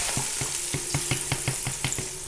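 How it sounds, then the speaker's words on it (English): Gumbo mix hits a hot pan and sizzles steadily, with a broad hissing frying noise and rapid rhythmic scraping taps of stirring repeating several times a second, close and moderately loud. "It's going to sizzle."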